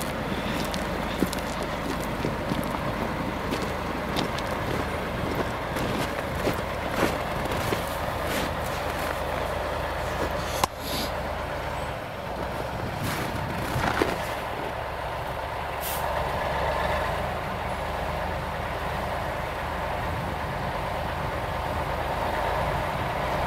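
A road machine levels a crushed-stone gravel road surface in November, a steady loud engine rumble with grinding and occasional hissing bursts, continuous throughout.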